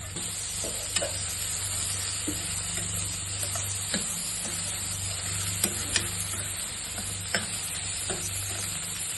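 Chopped bottle gourd sautés in ghee in a heavy-bottomed pot, giving a soft steady sizzle under a low hum, with faint ladle taps and scrapes at irregular intervals and no voices.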